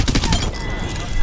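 Automatic gunfire in the shooter game Apex Legends, rapid dense bursts of shots up close, with players talking over the shooting.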